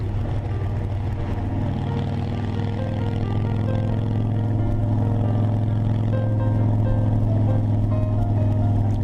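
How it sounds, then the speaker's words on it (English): Harley motorcycle crossing a major wooden plank bridge, the Julia Butler Hansen bridge in Washington: a steady, loud engine drone with a low hum and road rumble runs unbroken from start to finish. "I think this is the first time I have ever rode across wooden planks across such a major bridge"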